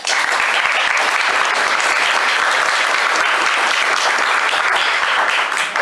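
A dense, loud round of applause from a lecture audience fills the room, sustained without a break for several seconds.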